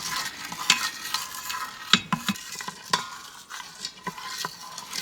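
Blueberries are stirred in a pot as they sauté down toward a syrup, with irregular spoon clacks and scrapes against the pot over a soft bubbling sizzle, up close and without talk.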